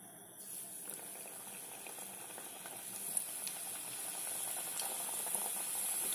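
Snacks frying in hot oil, a steady soft crackle and hiss of bubbling oil, close and quiet, growing slightly busier as the sizzling continues.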